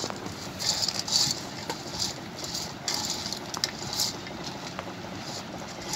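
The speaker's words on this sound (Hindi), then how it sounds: "मैं इसे हाथ से मिक्स कर रही हूँ।" Chinese bhel of puffed rice and chutney is tossed by hand in a bowl, giving a steady soft crunchy rustle with intermittent light clinks and rattles, close up and with no talk.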